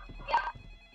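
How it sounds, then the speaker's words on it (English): A phone rings during a ghost hunt, a brief electronic ringtone of short tonal chirps, fairly faint against a quiet room. "Phone's ringing."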